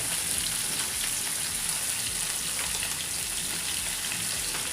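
Potatoes and Malabar spinach stalks frying together in a pan with ginger-cumin paste, a steady, even hiss of sizzling oil that holds unchanged throughout, close and with no speech.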